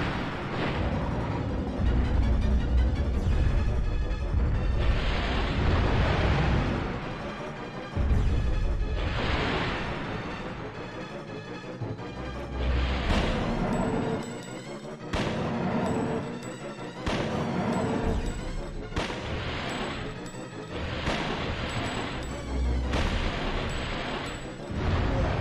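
Gunfire rings out in the video game Dino Crisis, a loud run of booming shots and bursts, some spaced apart and some in quick succession, with no voices.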